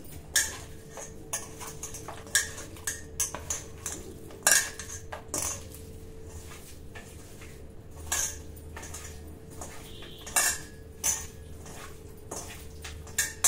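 Marinated chicken pieces being mixed in a bowl, with repeated clinks and scrapes of a spoon against the dish in an irregular rhythm over a low steady background hum, fairly close and moderately quiet.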